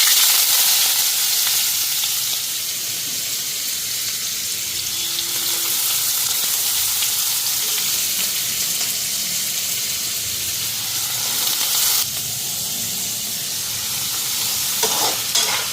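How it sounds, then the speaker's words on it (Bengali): Cut, washed potatoes fry in oil in a home kitchen while chow mein is being prepared. A steady, close sizzle and hiss runs throughout with faint clinks, and no one speaks. "আগে আলুটা ফ্রাই বসাই নি।"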